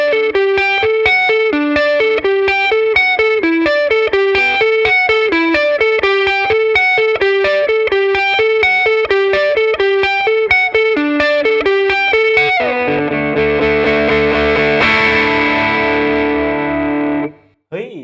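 Distorted electric guitar played through a Marshall amp fitted with a Celestion speaker, a fast repeating picked riff for about twelve seconds, then loud sustained crunchy chords ringing out before stopping abruptly.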